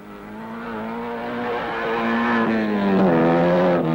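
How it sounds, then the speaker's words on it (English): A 1960s Ogle Mini race car driving fast on a dirt autocross course, its engine loud and close with a rising, revving drone that builds steadily. "The Ogle Mini is one of the fastest eggs in the business, and Kerridge is heading for a class win thr"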